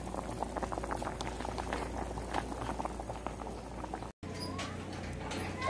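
Smoked pork with sour Dayak eggplant bubbling in a pot, a continuous close boiling burble with a brief cut near the end.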